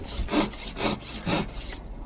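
An ARS tapered hand saw cutting through wood in smooth, quiet rasping strokes, three distinct back-and-forth passes close up with no talking.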